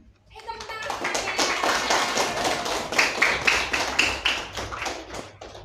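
Classroom students applauding, heard as rhythmic group clapping that swells and holds for several seconds, mixed with children's voices and chatter.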